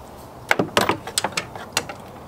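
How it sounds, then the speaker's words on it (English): A serpentine belt tool is fitted to a 14 mm tensioner pulley bolt on a car engine, giving a quick series of sharp metallic clicks and clunks, uneven in rhythm and close by. "On the tensioner pulley, I'm just going to relieve the tension on the belt right now."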